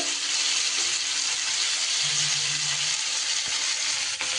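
Large shrimp fry lightly in oil with a loud, constant sizzling hiss that stays even throughout, with a faint clink near the end.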